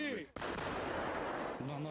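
An artillery gun fires on the Ukrainian front, one heavy blast followed by a broad, rumbling roar lasting over a second, with a voice speaking just before and after.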